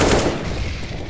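Counter-Strike gunfire: a short, loud burst of rapid shots at close range, sharp and punchy, with no talk over it.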